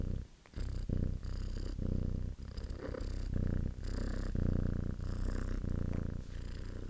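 A cat purrs close up in a rhythmic series of rumbling breaths, each purr cycle separated by brief pauses.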